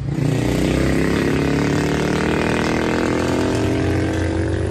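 A noisy motorcycle roars past close by on a street, its engine loud and steady throughout with no speech over it.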